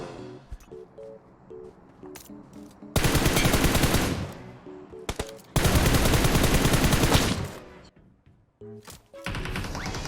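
Bursts of automatic gunfire in PUBG Mobile, two long loud sustained volleys and a shorter one near the end, separated by quieter stretches with faint tones and clicks.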